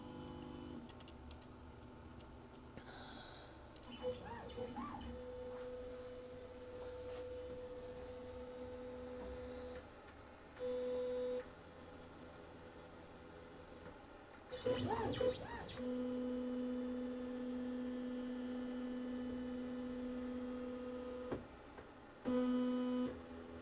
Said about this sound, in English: let the machine do its thing and probe for X,